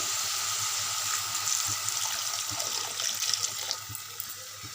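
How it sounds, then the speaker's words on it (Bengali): Water is poured into cabbage frying in a pan, setting off a continuous, bright sizzling hiss with light splashing crackles close by. "এবার একটু জল দিয়ে দেবো সামান্য পরিমাণ জল দেবো"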